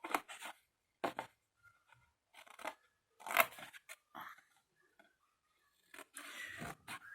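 Scissors cut through white paper at close range in separate crisp snipping and crunching bursts with pauses between them, some quick double cuts, quiet and dry with no talking.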